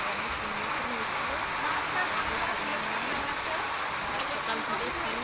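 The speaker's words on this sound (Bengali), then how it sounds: "বৃষ্টিটা হচ্ছে সকাল থেকে, মানে ভোর থেকে আরম্ভ হয়েছে বৃষ্টিটা" Heavy rain pours over a garden after falling steadily since dawn, a loud, dense, unbroken hiss of downpour that fills the whole stretch without pause.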